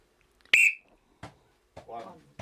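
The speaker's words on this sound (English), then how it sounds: "On the whistle." A single sharp referee-style whistle blast, loud and close, rings out briefly to start a timed count on a football-themed show, followed by faint thumps and a short burst of voice.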